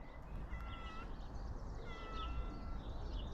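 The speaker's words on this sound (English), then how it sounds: "Hello, cat." A faint, short meow sounds twice against steady outdoor background noise, without any talking.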